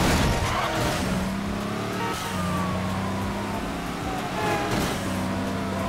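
Street racing in Midnight Club 3 with a Mitsubishi Lancer: a loud, steady engine roar with shifting revs and whining tire squeals, continuous and up front throughout, with a faint voice occasionally under it.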